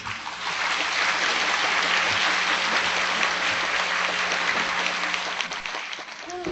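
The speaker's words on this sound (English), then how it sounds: "let's welcome the charming Mimi Quick with a big round of applause." Loud, sustained applause from an audience, a dense wash of clapping that fades slightly toward the end.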